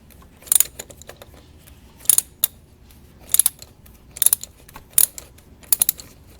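Oil filter housing on a 2007 Mini Cooper with a 1.6L engine being loosened by hand, heard as about six short, bright clicking and scraping bursts spaced roughly a second apart, close and fairly quiet, with no talking.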